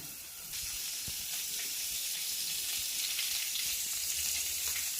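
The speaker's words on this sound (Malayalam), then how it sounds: "ചട്ടി ചൂടായി വന്നിട്ടുണ്ട് അതിലേക്ക് ഒരു രണ്ട് സ്പൂൺ വെളിച്ചെണ്ണ വെച്ച് കൊടുക്കാം" Two spoons of coconut oil sizzling and hissing in a hot clay pot, a steady close frying crackle that rises suddenly at the start and holds throughout with no talking.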